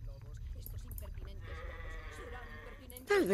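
A sheep bleats in the Sacred fantasy role-playing game, with wavering bleats heard amid game voices and background sounds, then a sharper, louder burst at the end.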